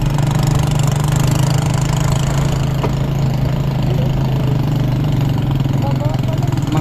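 Motorcycle engine running steadily close by along a seaside road, a loud constant low drone throughout, with voices talking over it.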